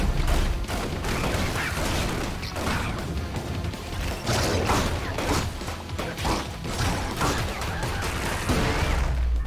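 Dense, continuous barrage of bullets firing and being deflected in ScourgeBringer, with crashing impacts and whooshes layered over a steady loud game soundtrack, no talking.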